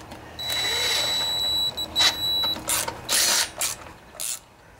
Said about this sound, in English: I just want to get these bolts started a little bit here.